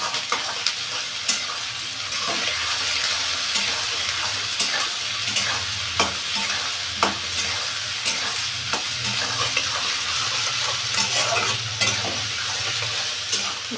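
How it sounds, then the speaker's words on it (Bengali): Ginger garlic paste frying in hot oil for chicken chilli, a loud, steady sizzle punctuated by regular clicks and scrapes of a spatula stirring in the pan, with no talking. "একটু ভেজে নিলাম।"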